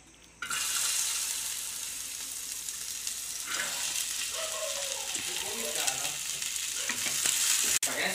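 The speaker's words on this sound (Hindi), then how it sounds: "देखिए अब भिंडी फ्राई हो रही है अच्छी तरह से" Okra (bhindi) frying in oil in a pan, a steady close sizzle that starts abruptly and carries on, with clattering stirs and a speaking voice partway through.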